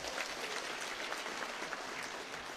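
A crowd at a Uganda census event applauds in a steady, even wash of clapping, heard from a moderate distance and softly, with no voices over it.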